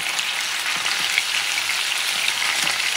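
Beef short ribs searing in a hot pot, giving off a steady, loud, rain-like sizzle that stays even throughout without talk.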